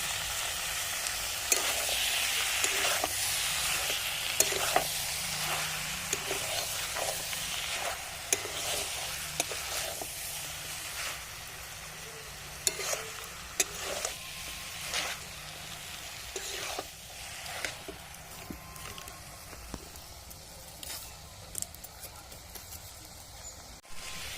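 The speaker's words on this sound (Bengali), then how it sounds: "হলুদ, ভালো করে একসাথে কষি।" Goat offal stir-fried with turmeric in a pan, a soft, steady sizzle broken by frequent scraping strokes of a spatula, fairly quiet and close, with no talking.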